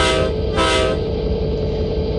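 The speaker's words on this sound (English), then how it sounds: "you are going to honk two blasts" A loud GP40-2 or SD40-2 locomotive horn sounds two blasts in close succession, the second trailing into a steady rumble of the train.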